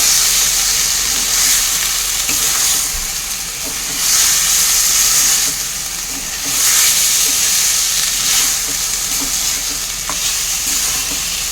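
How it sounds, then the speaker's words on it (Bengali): Eggs are stirred through a spice masala in a pan, making a loud, continuous frying sizzle and hiss with gentle swells as they are turned, close up and without any voices. "মশলাটার মধ্যে আমি ডিমগুলো দিয়ে দেব। ডিমগুলো দিয়ে ভালো করে কষিয়ে নেব।"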